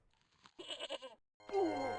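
A goat in the video game Broken Sword: The Shadow of the Templars gives two close, nasal bleats, the second longer and wavering, with short gaps of quiet between them.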